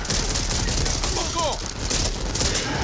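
Rapid, continuous gunfire in the co-op zombie shooter Back 4 Blood, a dense rattling fusillade running throughout with a brief lull midway, voices briefly audible beneath.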